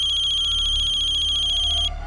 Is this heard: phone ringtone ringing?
yes